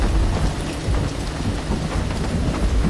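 A heavy thunderstorm in the horror game Devour, dense loud rain roaring continuously with deep rumbling thunder rolling beneath, no voices over it.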